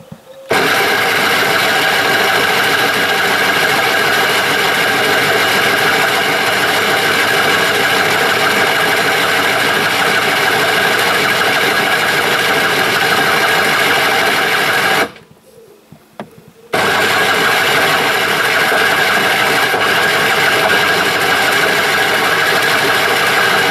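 A Honda X8R-X scooter engine running and idling close by, a loud, steady buzzing putter that holds for most of the time, cutting out briefly before picking up again.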